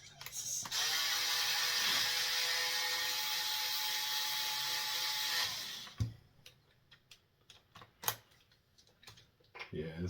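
A small hobby detail drill whirs steadily and loudly for several seconds, then cuts out, leaving scattered clicks and light handling noises.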